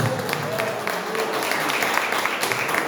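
A church congregation applauds in praise, a dense wash of clapping that fills the whole stretch at steady, moderate loudness, with some voices mixed in underneath.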